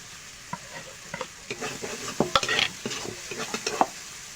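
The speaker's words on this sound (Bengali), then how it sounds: "মশলাটা একটু কষিয়ে নিয়েছে, এবার দিয়ে দেবো জিরে ধনে বাটা, দিয়ে দেবো লঙ্কা গুঁড়ো" Spice paste for potol chingri, a Bengali pointed gourd and prawn curry, sizzles and fries in a pan while being stirred, with faint bubbling and intermittent spoon scrapes close by.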